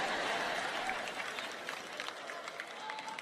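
Audience applause fills a large hall, dense and steady clapping heard at a moderate distance and fading slightly toward the end.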